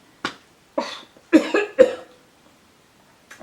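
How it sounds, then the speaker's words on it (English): Several sharp coughs, one early and a tight cluster of three in the middle, close and fairly loud, with quiet pauses between. "Why is it making me cough?"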